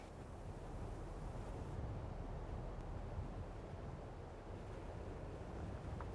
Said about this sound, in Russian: Лишь только ветер. Ветер и необъятность.